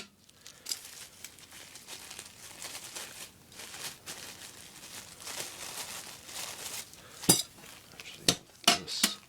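Metal parts of a Ghillie Kettle Adventurer Kit camping kettle set are handled, giving soft clinks, rustles and crinkles with a few sharper metallic clanks near the end, close and fairly quiet.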